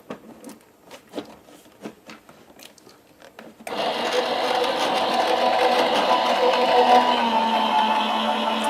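A die-cutting machine pulls a stack of plates through with a steady, loud mechanical whirring hum. A few light taps and handling sounds come before it starts.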